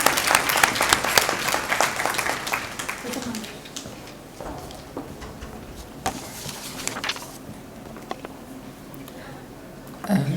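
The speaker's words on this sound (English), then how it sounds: "Please, everybody, huge round of applause for her." Sustained applause from a conference audience at a nursing leadership session, loud at first and thinning out over about ten seconds, with scattered claps and faint murmuring.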